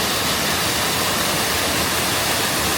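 Water pours down Rock Run Falls as a dense, even rush of white noise that fills the whole clip at constant loudness, with no other sounds.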